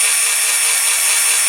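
Electric drill boring out a rivet post on a die-cast Dinky Toys MG Midget model: a steady, close, high-pitched whine and grinding hiss that holds evenly throughout with no talking.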